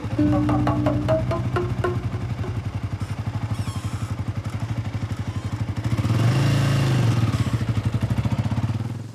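Taxi engine idling steadily and close, with a rhythmic mechanical chugging throughout that grows a little louder and rougher toward the end.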